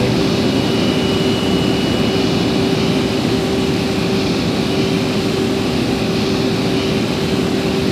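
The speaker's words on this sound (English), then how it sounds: "It's an MD-11 taking off." MD-11 jet taking off in a flight simulator game, a steady loud engine roar with a constant whine, continuous and unchanging throughout, with no voices.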